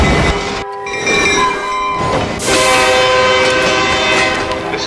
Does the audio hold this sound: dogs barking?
no